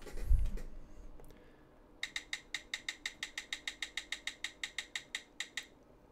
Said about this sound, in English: Let's start up the Wheel of Destiny and see which reaction we're gonna do today.